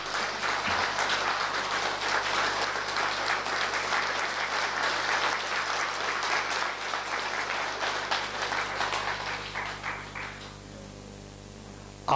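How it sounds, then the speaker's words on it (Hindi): Sustained audience applause at a Brahma Kumaris yoga class at Pandav Bhawan, steady and dense for about ten seconds, then thinning out and fading near the end. "एक बार तालियां बजाओ जरा अच्छी तरह से"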